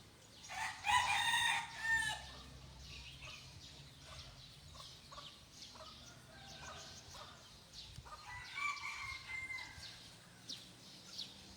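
At a village temple in Thailand's Isan region, a rooster crows loudly twice, near and clear, while chickens cluck and chatter intermittently between the calls.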